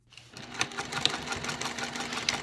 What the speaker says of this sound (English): I'm going to stitch 1/8 inch from the raw edge on the black cork here down and then back up